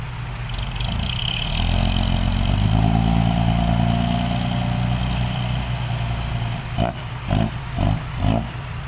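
A motorcycle stuck fast in a mud rut, its engine droning steadily and then rising into a loud, sustained rev before a string of four short throttle blips near the end, with no voices.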